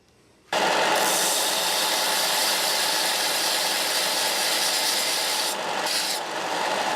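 Metal file drawn steadily across a Stanley No 80 cabinet scraper blade to establish bevels, a loud, continuous close rasping that starts abruptly after a brief quiet moment and runs almost without pause.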